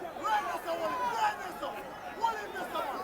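Crowd at a boxing arena, a steady murmuring babble of many voices with occasional calls rising out of it, moderately loud, with no clear cheer burst.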